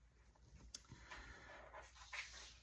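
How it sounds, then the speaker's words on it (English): A dog pants and shuffles around nearby, with soft rustling, scratching movement and a brief sharp knock, all quiet. "I'm sorry if you can hear my dog shuffling around behind me over here."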